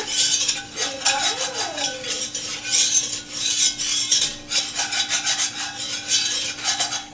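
A utensil scrapes and stirs in a pot as flour is worked into melted butter for mac and cheese, a steady close rubbing and clinking with a faint hum behind it and no talking.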